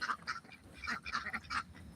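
A duck swimming in an outdoor pool gives a few short, fairly faint quacks in quick succession, heard alone.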